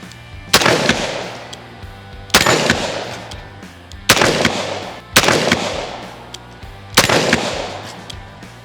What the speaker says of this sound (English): So when you're shooting a revolver,